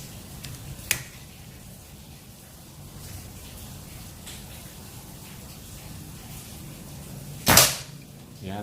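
Predator Python P-32 PCP air pistol with a stainless 32 mm OD tank at 2700 psi and 25 cm barrel fires a single sharp, loud crack near the end, with a fainter snap earlier, over low background noise.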